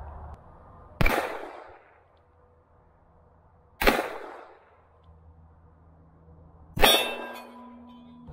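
Taurus Judge pistol firing shotgun shells at a steel target, three loud, sharp shots spaced a few seconds apart, each with a quick ringing tail fading before the next.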